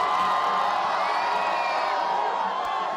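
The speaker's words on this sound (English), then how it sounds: "The Prime Minister there to loud chants of Modi, Modi and cheering in the background" A large political rally crowd in Gujarat, India, cheering and chanting, a dense, continuous roar of many voices sustained loudly throughout with no single speaker standing out.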